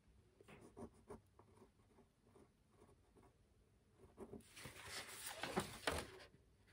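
Pen strokes scratch across a paper sentence strip while planet names are written for a solar system model: soft, close, irregular scribbles that grow louder and busier toward the end, with no talk.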